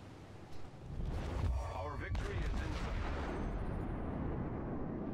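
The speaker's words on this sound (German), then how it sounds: "Jetzt schießen wir aber zurück." Naval artillery salvos from the warship game World of Warships, a heavy booming blast followed by a sustained rumbling roar that lingers and slowly fades.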